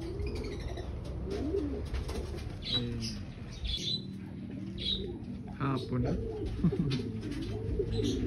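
Homing pigeons coo repeatedly in low, rolling calls close by, with a few wing flaps and a brief spoken phrase in between.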